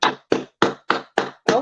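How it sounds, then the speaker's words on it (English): Six sharp, evenly spaced claps ring out close and clear, each a crisp hand strike with a short decay and quiet gaps between. "Let's clap for that."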